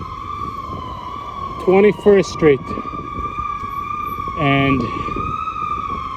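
An ambulance siren holds a steady, continuous wail amid Manhattan traffic, staying prominent while someone speaks briefly over it.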